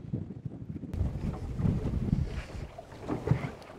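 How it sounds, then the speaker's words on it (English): Steady wind gusting across a lake around a small fishing boat on Lake Sakakawea, a continuous low rushing buffet on the microphone with faint water movement, fairly loud and unbroken, no talking. "it's a perfect wind actually."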